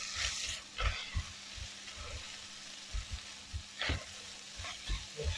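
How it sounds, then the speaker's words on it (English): Peppers and meat fry over high heat in a pan, sizzling steadily with bursts of louder scraping and stirring spread unevenly across the few seconds. "this is the time where in goes the peppers. The main ingredient. We're still on high heat."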